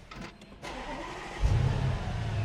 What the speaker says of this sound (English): And of course, you get the nice V8 rumble.